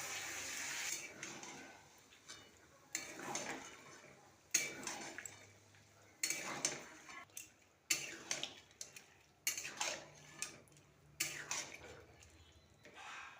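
Boiled peas being stirred into masala in a pan, heard as a series of irregular spoon scrapes and clinks against the pan, fairly quiet, with pauses between bursts.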